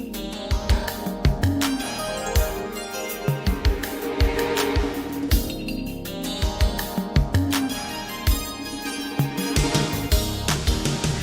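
Sampled soul track playing as a dense, full mix with punchy drum hits, bass and layered instruments in a steady groove, loud and continuous.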